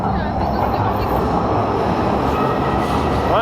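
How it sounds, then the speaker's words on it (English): A train rumbles loudly past in a busy city street, a dense, continuous roar of wheels and rail noise up close with faint wheel squeal and some voice beneath. "noise from the train behind"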